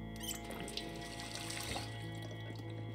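A running water tap in Project Zomboid gives a steady, fairly quiet rush of flowing water that lasts the whole stretch, with a low background hum beneath it.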